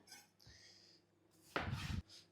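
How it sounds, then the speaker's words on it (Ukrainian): A knife cuts through a tomato on a board in a quiet kitchen, giving a soft tap followed by a faint, brief rustling cut near the end. "За той час, друзі, наріжемо один помідор."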